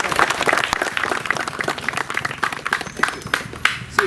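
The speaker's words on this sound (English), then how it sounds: "please give him a round of applause" Applause from a crowd at a public meeting over irregular water supply, welcoming an engineer: dense, steady clapping that fills the whole stretch, fairly close and loud, with a few voices mixed in.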